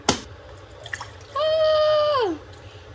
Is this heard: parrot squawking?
no